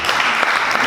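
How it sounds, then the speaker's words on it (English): Brief burst of audience clapping at an empowerment summit, a loud dense patter of many hands lasting under a second. "Clap your hands."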